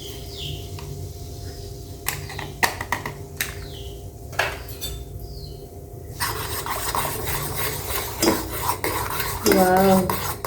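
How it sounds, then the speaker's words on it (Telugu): A spoon stirring coffee powder into hot water in a cup, starting with sharp clinks and scrapes and then turning into a busier, louder swirling scrape, close and without talk. "ఈ కాఫీ పౌడర్ని అయితే ఒకసారి మిక్స్ చేసుకుందాము"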